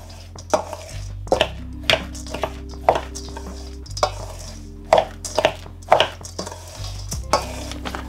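Grated coconut and rava being mixed with cardamom powder in a bowl, close knocking and scraping strokes of a spoon against the vessel in an uneven rhythm, with a low hum behind.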